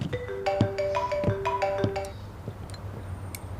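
A mobile phone ringtone at a shared meal plays a bright, repeating electronic melody in clear tones for about two seconds, then gives way to quiet room noise with no talking.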